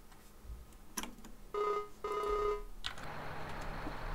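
A telephone rings during a call in a farming video game: two short electronic trill bursts close together, preceded by light clicks and followed by a low background hiss.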